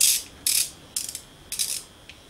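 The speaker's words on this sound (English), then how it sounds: "this time I'm going to use a box spanner with a ratchet on" A ratchet box spanner turns a 19mm bolt on a 7x12 lathe, giving four short bursts of crisp metallic clicking in an even rhythm, close and clear, with no talking.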